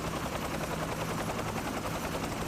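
A military helicopter is close and loud, its rotor keeping up a thick, continuous thumping roar that fills the whole stretch with no voices.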